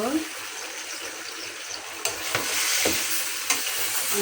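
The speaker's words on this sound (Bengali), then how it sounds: "ভালো করে কষিয়ে নেব" Sweet potato and green chilies stir-frying in a pan for a vegetarian dish, a continuous sizzle with scraping stirs and a couple of sharper knocks of the spatula.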